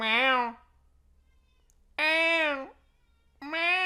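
Three drawn-out meows from a cat in a visual novel game, voiced by a person imitating a cat, each call separated by silence.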